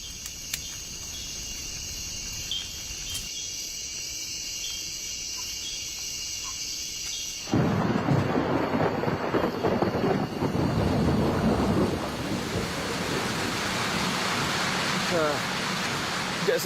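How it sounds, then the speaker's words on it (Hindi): Outdoors in a thunderstorm, chirping insects give way abruptly to loud, steady rain noise with low rumbling thunder, a dense continuous wash that persists to the end. "पिछले करीब 4 घंटों से बारिश हो रही है और बिजली चमक रही है, बादल गरज रहे हैं।"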